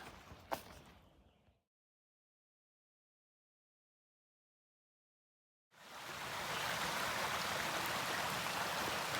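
A flowing stream beside a hiking trail gives a steady, full rushing wash that rises after several seconds of silence, following a short earlier burst of water noise, with no voices.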